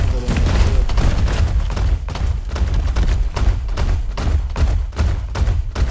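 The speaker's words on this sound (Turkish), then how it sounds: "Bomba yaptılar ama." Loud, continuous rumbling booms and heavy thuds from bombs exploding in PUBG Mobile, densely layered with rapid impacts and low-end roar filling the whole stretch, with some voice underneath.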